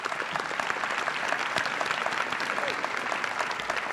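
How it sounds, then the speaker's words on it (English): Steady, dense applause from a large crowd at a high school senior awards ceremony, heard at a moderate distance and sustained evenly throughout without talk. "So if we could give him a round of applause,"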